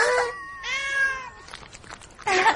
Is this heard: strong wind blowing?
no